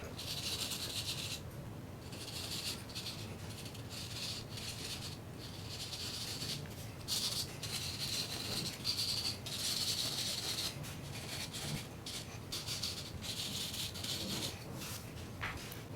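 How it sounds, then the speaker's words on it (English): Soft, quiet rubbing and scratching of sandpaper on a drywall patch over a nail pop, in short irregular strokes, close up, with no talking. "Now I'm gonna do some light sanding just with the sandpaper on the cap"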